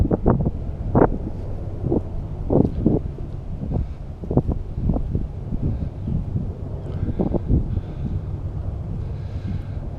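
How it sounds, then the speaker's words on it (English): Wind blows across a microphone outdoors, producing a steady low rumble broken by gusty buffeting bursts through the whole stretch. "The ever-present left edge wind."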